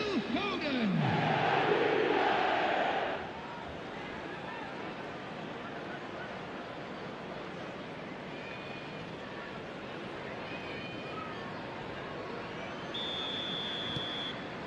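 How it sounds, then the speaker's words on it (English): A packed football stadium roars after a Manchester United goal, a loud surge of cheering for a few seconds that settles into a sustained distant crowd rumble. "the crowd level has gone up a notch or 10"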